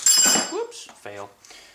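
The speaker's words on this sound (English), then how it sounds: "Take your new tie rod that I just threw across the floor." A newly bought automotive tie rod for a Saturn S-Series, thrown across a garage floor, lands with a short bright metallic clatter and clink, followed by a few softer rattles as it settles.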